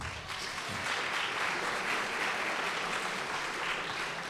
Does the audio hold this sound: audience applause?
yes